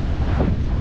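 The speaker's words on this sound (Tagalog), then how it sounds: "Hangin lang." Steady low rumbling wind buffeting a GoPro microphone while cycling, loud and constant throughout with no other distinct sounds.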